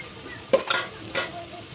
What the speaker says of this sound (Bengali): বিভিন্ন মশলা মিক্স করা হচ্ছে